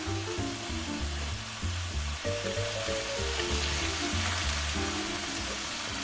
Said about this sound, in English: we stir the risotto in the figure of 8 to let the stock get absorbed.